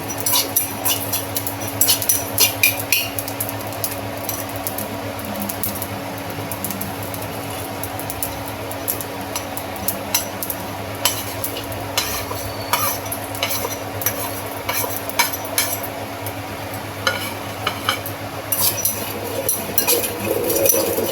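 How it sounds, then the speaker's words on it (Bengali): Green chillies dry roasting in a pan are stirred continuously, with constant scraping and clinks of a utensil against the metal over a faint sizzle. The sound is close and fairly loud for about twenty seconds, with no voices. "এগুলো সব একটু ড্রাই রোস্ট করে, জাস্ট একটু গরম করার মতো।"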